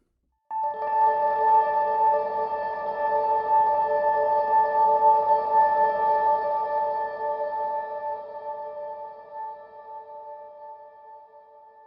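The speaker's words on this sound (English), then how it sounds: "I'll just play those 3 notes really quick and it creates a shimmer thing" Sky Particle Reverb from the Impulse plugin turning three rapidly played notes into a bright shimmering wash of fast feedback delays; a sustained tonal swell that rises suddenly, holds steady and slowly fades away, alone and clear.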